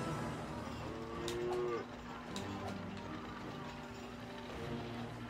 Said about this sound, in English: My three Nazi cow minions will take care of you.